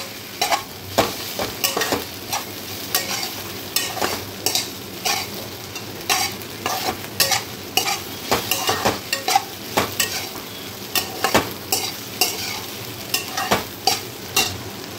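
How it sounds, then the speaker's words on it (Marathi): Bite-sized pieces of medu vada are tossed in a pan over medium heat: a busy sizzle broken by rapid, rhythmic scraping and stirring strokes of a spoon against the pan, close and loud throughout. "हे छान असं मिडियम गॅसवर मी परतून घेणार आहे।"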